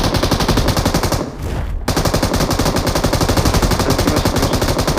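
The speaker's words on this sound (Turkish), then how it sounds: "Oğlum sen kime sıkıyorsun?" Rapid automatic gunfire in PUBG Mobile, a loud, close, continuous stream of shots with a brief half-second break before the burst resumes at the same relentless pace.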